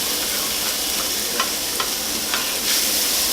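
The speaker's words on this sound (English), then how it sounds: "I'm just going to add it back into the pot" Drained ground beef tipped back into a pot and stirred, a steady low sizzle with a few soft scraping clicks of the spoon, close and unbroken, no voices.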